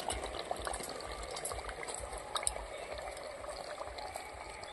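Handi chicken curry simmers in a pot, the thick gravy bubbling and popping with a steady, soft, close bubbling texture and no voices.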